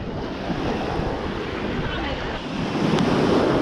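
Ocean waves breaking offshore and rolling in onto a beach with a drop-off, a steady loud wash of surf with wind rumbling across the microphone and a swell building near the end.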